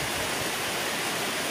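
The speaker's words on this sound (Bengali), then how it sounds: "বৃষ্টি যেভাবে পড়ছিল তার থেকে আরও জোরে বৃষ্টি হচ্ছে" A downpour in the Sundarbans, heavy rain making a thick, constant hiss that fills the whole moment, loud and close, with no speech.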